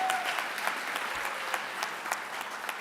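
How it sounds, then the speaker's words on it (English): Applause at an MLK tribute event, a crowd clapping steadily with scattered sharper claps standing out, moderately loud and unbroken. "Let's give them a round of applause."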